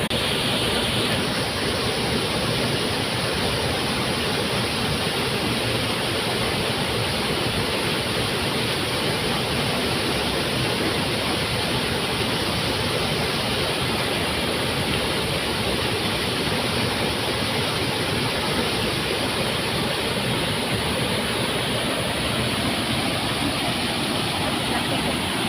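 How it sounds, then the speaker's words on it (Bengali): A mountain-style waterfall rushes in a steady, dense, broadband roar that stays loud and unbroken throughout, with no speech over it. "একবার ঝর্ণাটা দেখে নিন।"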